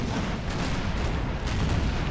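A warship's broadside of cannons in Napoleon Total War, a dense, continuous roar of heavy booming fire rolling on without pause, loud and close.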